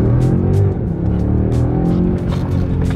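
A car accelerating hard in Sport Plus mode: a loud, continuous engine drone with layered harmonic tones and some road and tire noise, sustained for about three seconds with no talking.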